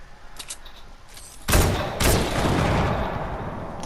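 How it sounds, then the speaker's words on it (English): Gunfire and explosions in an online shooter game, a couple of sharp, loud bursts about half a second apart followed by a sustained rumbling roar, with no talk. "apparently the other guy was trying to shoot me"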